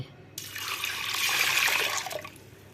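Water pours from a small pot in a single splashing gush lasting about two seconds, close and fairly loud, then tapers off to quiet, while sambar is cooked.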